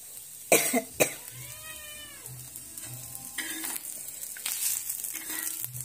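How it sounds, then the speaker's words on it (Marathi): Green chillies and garlic cloves sautéing in oil give a steady, soft sizzle with a few sharp clatters near the start, and a drawn-out, cat-like meow rises and falls in the middle. "त्याही या तेलासोबतच असं परतून घ्यायचं।"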